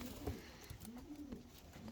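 Pigeons cooing in a loft, fancy breeds such as Könenberg, English nun and Bukhara, giving soft, low, rolling coos that repeat a few times, faint and close.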